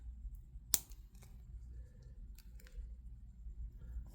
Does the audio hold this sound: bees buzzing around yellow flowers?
no